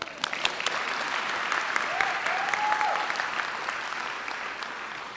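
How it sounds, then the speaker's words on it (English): Applause from the crowd at the 2023 Thornton High School graduation ceremony, a steady, moderately loud patter of many hands with a few sharper claps, while a brief tonal sound rises and falls partway through. "Another round of applause."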